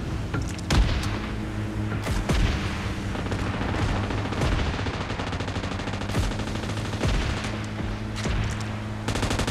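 Sustained automatic gunfire and repeated shots from PUBG Mobile during a vehicle death-race mode, loud and dense throughout with bursts of sharper cracks over a steady low engine rumble.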